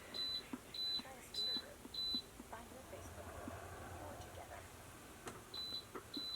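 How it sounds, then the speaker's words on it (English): An oven timer beeps in the background in short high electronic bursts, several spaced beeps near the start and a few more near the end, faint behind a person talking. "Pardon my beeper, that's the oven in the background."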